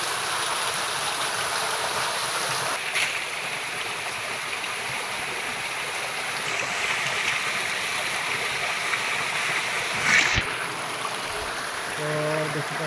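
Water from a waterfall near a tribal village pours and rushes in a steady, loud, continuous wash, with a brief knock or two near the middle and a faint voice near the end.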